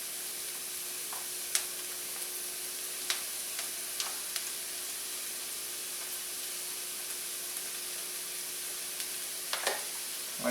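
Leftover rice for pork fried rice frying in a large hot pan, a steady soft sizzle with a few sharp ticks and crackles scattered through, close and even, no one speaking.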